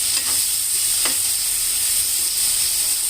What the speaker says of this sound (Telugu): 2 మినిట్స్ అట్లా ఉంచుకుంటే ముక్కలు కాస్త నూనెలో వేగినట్టు అవుతాయి